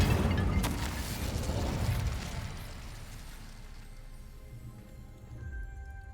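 Incendio fire spell cast in the Hogwarts Legacy video game, a loud whooshing burst that rumbles and crackles, then slowly fades into a low, quieter tail.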